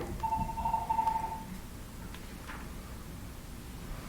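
A mobile phone rings in a committee meeting room, a brief electronic tone sounding for about a second and a half over faint room noise before it cuts off.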